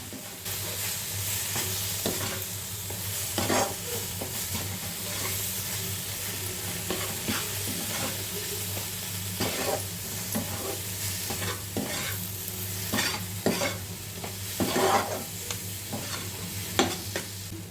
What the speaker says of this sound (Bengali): আগে থেকে বেটে রাখা কালো জিরা কাঁচা লঙ্কা রসুন টমেটোর পেস্টটা এবার ভালো করে ভেজে নেব